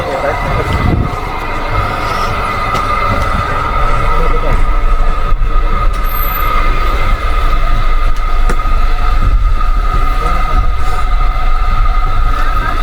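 Shivalik Express toy train on the Kalka–Shimla line in Himachal Pradesh, rolling steadily with a continuous rumble and rattle of coaches heard from inside a coach, a brief squeal partway through.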